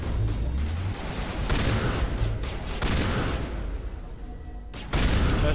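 Shotgun blasts and combat noise in the sci-fi game Mass Effect, heavy booming shots layered over a constant loud rumble of battle, with a sharp burst near the end.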